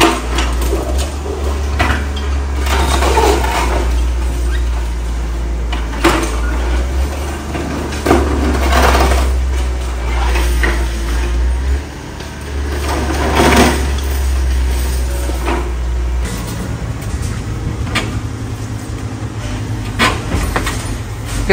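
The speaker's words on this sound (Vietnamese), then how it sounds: "Tiếp tục máy sẽ xử lý cái phần dầm ngang và bức tường của cái tầng 2 của gian phòng ngủ" An excavator demolishes the horizontal beams and walls of a house's second floor, giving a steady loud engine rumble broken by repeated scraping and crunching of concrete and masonry, close by.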